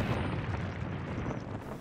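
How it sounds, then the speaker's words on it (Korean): A gas station explodes in a film scene, giving a dense, continuous roaring rumble that holds steady and loud for under two seconds without any voices. "사고로 주유소가 폭발하자 병원에 실려갑니다."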